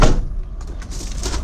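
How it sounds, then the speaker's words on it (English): The sliding side door of a Vauxhall Vivaro short-wheelbase panel van rolls along its track with a close, rumbling slide and a soft knock as it moves. "The first of the sliding doors."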